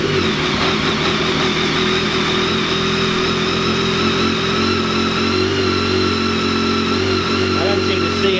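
A BMW K1300 motorcycle engine runs steadily and loudly at close range with a constant droning hum and little change in pitch, heard alone without talk.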